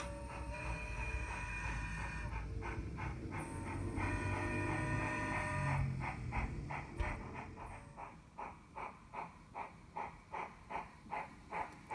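Passing PC&N Railway train along a Pacific coastal line, a rumbling rolling noise with tonal squeal, then a regular series of rhythmic clacks as wheels cross rail joints, fairly loud and steady.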